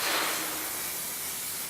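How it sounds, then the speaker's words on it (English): Cooking oil spray greasing the inside of a pan for homemade marshmallows: one steady, close hiss lasting under two seconds, with no talking. "I quite like this spray because it's just so fast and easy to use"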